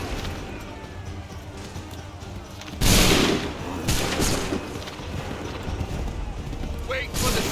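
Musket volleys crash out in Assassin's Creed 3, with a loud burst of massed gunfire followed by further rolling shots and clattering mechanisms under a continuous battle din, with shouted voices mixed in.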